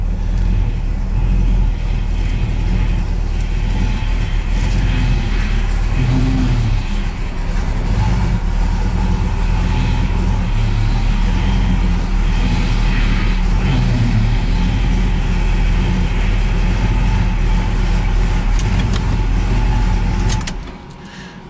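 A Chevrolet Monte Carlo SS454 V8 engine runs loud and close for about twenty seconds, a steady rough rumble with revs rising and falling, then cuts off abruptly near the end.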